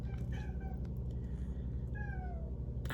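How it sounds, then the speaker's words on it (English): A hungry house cat meows several times up close, drawn-out plaintive calls over a steady low hum in a quiet room. "now he's meowing at me"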